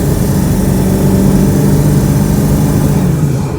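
A 2001 Ford pickup with a 7.3 Powerstroke diesel engine and an electronic boost fooler installed roars loudly and steadily under hard acceleration from inside the cab, a heavy, continuous drone with a slowly rising pitch and no talking.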